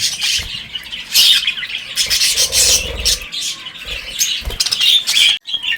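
Pet birds in a backyard aviary drinking water mixed with vitamins, heard as dense close chirping, squawking and rustling wing movement with scraping sounds, loud and continuous.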